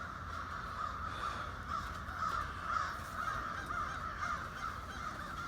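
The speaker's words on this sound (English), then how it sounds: "There are a lot of crows where I am." Crows cawing repeatedly in a steady, rhythmic series of harsh calls, moderately distant and fairly faint, continuing without pause over a quiet outdoor background.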